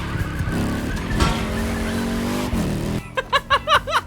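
Racing car in The Crew with a swapped two-cylinder V-twin engine, a loud rasping engine note with tire squeal, then a run of short rhythmic revving bursts.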